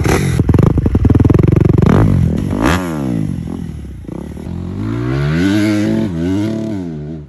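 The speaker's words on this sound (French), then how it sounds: "Il est parti au quart de tour, il a fait hurler le moteur." A motorcycle engine fires instantly and is revved hard up close, rising and falling howls sweeping through several throttle blips over a rattling idle.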